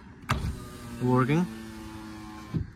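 A used Maruti WagonR's electric power window runs in one short, rising motor whine of about half a second, framed by soft clunks inside the car.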